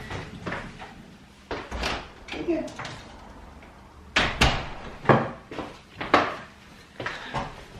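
A house door is opened and shut to let a dog outside, giving several knocks and thuds of the door and latch, close and fairly loud, while a person talks over the handling.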